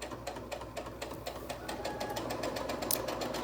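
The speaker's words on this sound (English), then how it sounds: "I'm just going to sew a straight line down to the next crook." A sewing machine hums and clatters in a rapid, even rhythm while stitching a straight seam on fabric strips for quilt binding, close and steady throughout.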